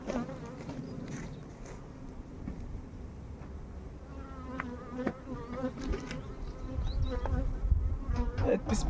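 Honey bees hum steadily around an opened hive in a colony that has been raising a queen cell, a dense close buzz that swells louder near the end, with no talking.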